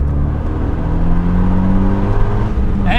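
A Renault Megane R26R engine pulls hard under acceleration, a loud, close, steady growl and whine that climbs in pitch through the clip, heard from inside the car.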